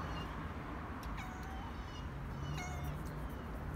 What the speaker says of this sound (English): This is a friendly black cat.